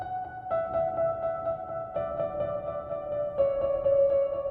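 Sustained piano melody notes treated with ping-pong delay and reverb, in a dark trap beat style, ringing steadily with echoing repeats and no voices.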